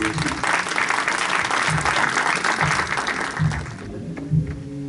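Enthusiastic applause from an Urdu Academy evening audience welcoming a ghazal performer: loud, dense clapping that holds for several seconds, then drops away, leaving faint voices and a few stray sounds.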